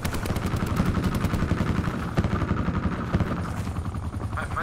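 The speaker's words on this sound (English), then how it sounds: "Chopper or something." Helicopter rotor chopping steadily and loud throughout a jungle battle in Call of Duty: Black Ops 4, mixed with bursts of gunfire.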